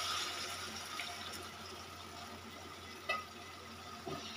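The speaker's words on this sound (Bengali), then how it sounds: "এই যে এখন আমরা ঝোলের পানি দিয়ে দিচ্ছি" Water is poured into a pan of frying rohu fish being cooked with whole radhuni seeds, giving a steady, fairly quiet hiss and splash with a couple of brief clinks.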